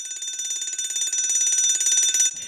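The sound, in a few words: alarm going off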